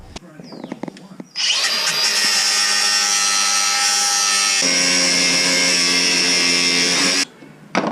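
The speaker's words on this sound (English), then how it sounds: "I'm gonna have to get the grinder and cut some of that off." Loud, close angle grinder cutting into an exhaust pipe during suspension work on a car, a steady high whine running for about six seconds after a short spin-up, then cutting off abruptly.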